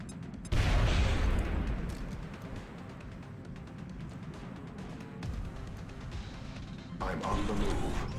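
A frag grenade bursts in XCOM Long War with a loud sudden blast, followed by a long rumbling crash and debris noise that settles, then a second swell near the end, while someone talks.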